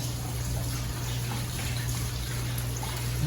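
Water runs steadily from a kitchen tap over gloved hands being rinsed, a continuous close splashing wash with a low hum underneath.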